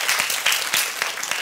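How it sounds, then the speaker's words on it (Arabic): A theatre audience at a children's magic show claps together in a quick burst of many hands, dense and close, filling the brief moment without talk. "أعطونا تصفيقة حارة على فريال"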